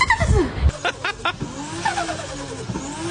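A mouth imitation of a Nissan Skyline R35 engine revving, with a few sharp bursts followed by a rising, whooshing sweep, fairly loud and close with no other talk.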